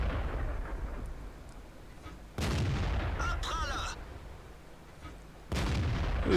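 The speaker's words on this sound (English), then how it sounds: "Get another shot into the KV-3." An E-25 tank fires its cannon in the World of Tanks video game, two heavy booming shots a few seconds apart, each followed by a rolling echo, with quieter battle noise in between.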